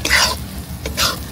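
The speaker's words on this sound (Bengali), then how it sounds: "ভেজে রাখা আলুগুলোকে আবার একটু মশলার সাথে এটাকে কষিয়ে নেব।" Fried potatoes stirred into spice masala in a pan for a Bengali katla fish kalia, two quick scraping stir strokes over a steady sizzle, close and loud.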